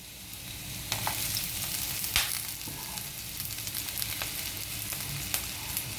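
Organic carrots and cabbage sautéing in a pan, a steady close sizzle with sharp intermittent stirring and scraping clicks throughout, no voices.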